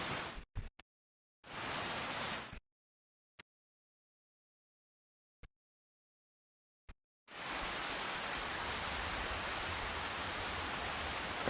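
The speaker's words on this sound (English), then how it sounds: "Is it gonna rain all day?" Rain falls in the video game Farming Simulator 25 as a broad hiss that cuts in and out in short bursts, broken by silent gaps, then settles into a steady, loud downpour.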